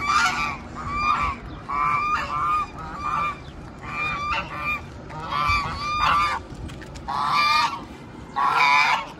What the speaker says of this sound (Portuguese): Olha o ganso